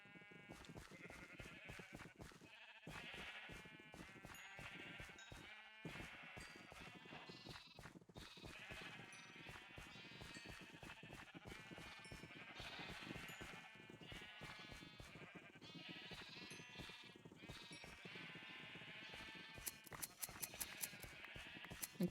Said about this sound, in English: I'm gonna go get some more sheep.